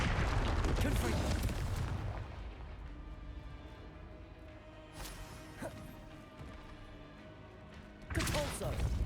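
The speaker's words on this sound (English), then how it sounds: "Confringo!" Confringo fire spell explosions in Hogwarts Legacy, a loud crashing burst at the start and another at the end, with a fainter thud between them. A voice speaks in between the blasts.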